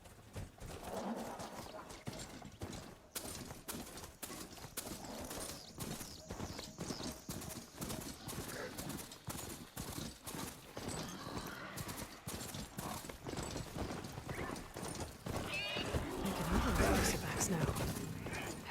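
A machine mount ridden in Horizon Forbidden West, with steady rhythmic hoof-like clopping footfalls throughout at a moderate level and a faint rumble of game ambience beneath.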